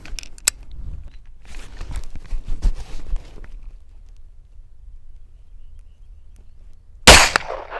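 A single sharp AR-9 rifle gunshot, fired at a target 50 yards away, cracks out loud and abrupt near the end after several seconds of quiet handling noises and faint clicks.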